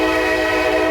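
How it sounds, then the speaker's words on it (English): A loud train passes close by, blasting a steady, sustained horn over the rumble of rail cars. "We'll wait for this guy to go by. Got the train down there."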